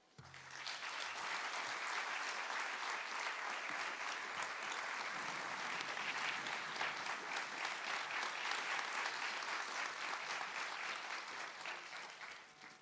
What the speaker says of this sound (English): please join me in a round of really, really warm applause